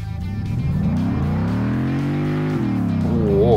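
Mercedes S63 Mansory engine revving loudly from the driver's seat, with repeated rising and falling throttle blips that hold a steady, deep roar before climbing again toward the end.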